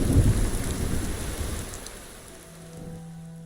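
Heavy rain and a thunderstorm in modded Fallout 4, a loud rumbling thunder burst over steady downpour that gradually eases and fades, no talk.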